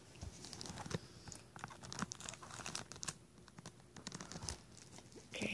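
Close crinkling and tearing of thin plastic wrap, with irregular crackles and rustles continuing throughout at a low level.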